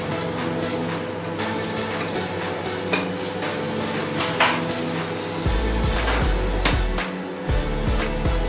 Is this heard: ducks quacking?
no